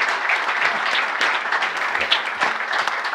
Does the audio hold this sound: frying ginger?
no